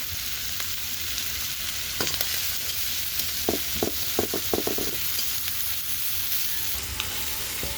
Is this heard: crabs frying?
yes